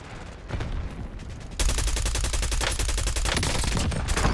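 Rapid assault rifle fire in Call of Duty Warzone in Verdansk, a near, loud automatic burst rattling in quick regular shots, lighter at first and then sustained and heavy.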